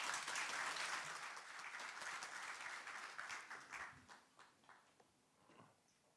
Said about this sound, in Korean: 그럼 큰 박수로 이종원 박사님 PT 와주시기 바랍니다.